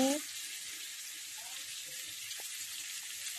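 Turmeric and beans frying in a pan for Gobindobhog rice khichuri, a steady soft sizzle holding through the whole stretch at low level, with a brief clink of utensils near the start.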